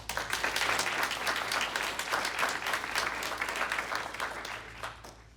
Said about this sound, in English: Can we get claps?